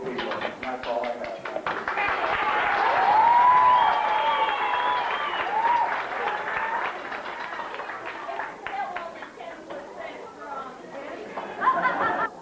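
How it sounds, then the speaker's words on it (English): Applause and cheerful chatter from a family reunion talent show crowd, clapping for two people, with voices and laughter mixing into the sustained clapping throughout. "I wanted you to applaud them because they are two super great people"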